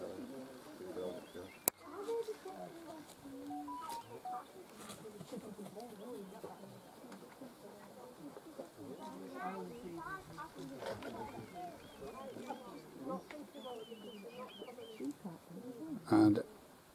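Red kites gather at a farm feeding station, and a few faint high whistling calls come through now and then. Someone talks almost the whole time over a quiet outdoor background.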